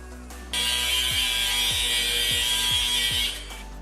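A part clamped in a vise being cut on an RB20DET intake build, a loud steady high-pitched grinding whine of a power tool running for about three seconds with rhythmic dips, starting and stopping abruptly.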